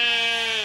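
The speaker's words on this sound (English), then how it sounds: "Yeah, sheep." A single sheep bleats once on a farm homestead, a clear, close, sustained cry lasting under a second with no talk over it.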